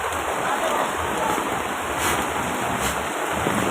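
Floodwater from heavy rain rushes past in a steady, loud, broadband wash of noise with slight surges, close by and continuous.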